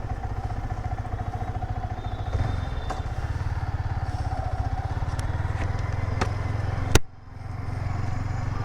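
A motorcycle engine putters steadily at close range as the bike rides along, with a sharp clack near the end and the engine continuing after.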